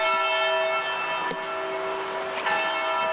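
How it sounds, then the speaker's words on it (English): Church bells ring with sustained, overlapping tones that hang in the air, a couple of fresh strikes standing out over the resonance. "Those church bells indicate the game's begun."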